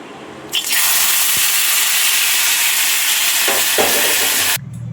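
Eggplant frying in hot oil for a roasted-eggplant mash with tomato, green chili and coriander: a loud, steady sizzle starts abruptly, holds for about four seconds, then cuts off sharply.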